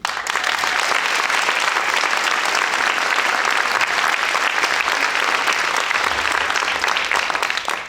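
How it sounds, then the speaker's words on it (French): Loud, sustained applause from an audience at a live revue show, a dense wash of clapping that holds steady for about eight seconds before tapering off slightly at the end. "faites un tonnerre d'applaudissements pour notre jury!"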